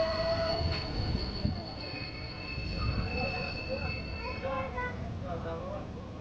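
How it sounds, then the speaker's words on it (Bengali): A train jolting and braking to a stop, with squealing wheels and a low rumble beneath high screeching tones that fade as it slows. "হঠাৎ করে ট্রেনটা আবারও ঝাঁকুনি খেয়ে থেমে যায়।"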